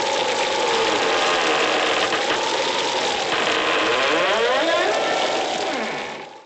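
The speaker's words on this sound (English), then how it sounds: "a collection of creaks" Dense, continuous mechanical creaking and grinding from a haunted house sound effects record, with wavering, sliding pitches, loud and steady throughout before tapering off at the end.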